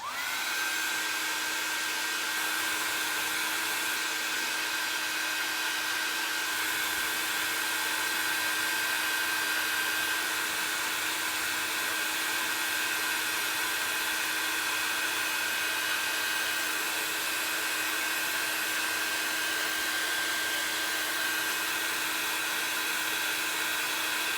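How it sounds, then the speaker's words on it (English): A hair dryer blows continuously and loudly for the whole stretch, drying a chalkboard, a steady whirring hum with no pauses or talking. "If you can, use your hair dryer on a cool setting"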